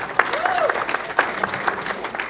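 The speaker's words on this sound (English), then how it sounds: "Give yourselves a round of applause just for being here today." Scattered audience applause at a State of the City address: uneven, fairly sparse clapping with distinct individual claps, moderately quiet, with a brief whistle-like tone early on.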